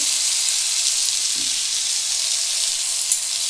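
Fish coated in spice masala fries on a tawa with a loud, steady hiss and crackle of hot oil, continuous and close, with a brief soft clink partway through.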